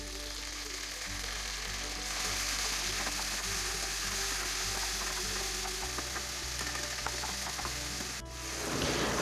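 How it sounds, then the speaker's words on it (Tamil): Tomatoes sautéing in a sambar gravy, a soft steady sizzle with faint stirring and clinks of a utensil against the pan throughout. "இப்போது தக்காளி ஆட் பண்ணிவிட்டு வதக்கிட்டே வாங்க."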